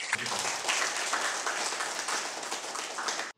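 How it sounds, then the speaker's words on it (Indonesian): A seated audience at a health talk show in Medan gives sustained, crowded applause that stays busy and fairly loud before cutting off abruptly at the end. "Kita berikan dulu tepuk tangan kepada kedua narasumber kita."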